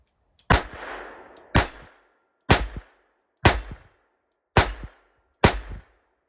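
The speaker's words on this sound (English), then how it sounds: "I'm just going to do some plinking here." A Charter Arms Police Bulldog .38 Special revolver fires 148-grain lead wadcutters outdoors in snow: six sharp, loud shots about a second apart, each followed by a brief ringing decay.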